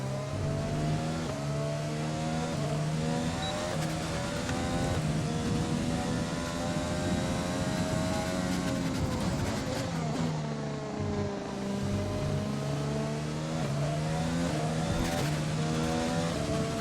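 Ferrari Formula 1 engines in the F1 2020 racing game, a continuous loud high-revving whine with gear shifts and pitch sweeps as cars run close together, no talking.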